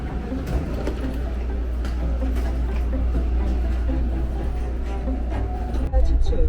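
Steady low rumble of an airport's internal monorail train in motion, a continuous hum with faint rattles, heard from inside the carriage.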